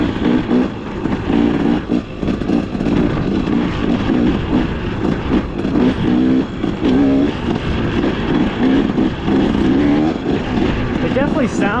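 A Husqvarna TE / KTM XCW 300 Champion two-stroke dirt bike engine revs and bogs in a continuous rising and falling drone, loud and close throughout, as if ridden, with no clear talking over it.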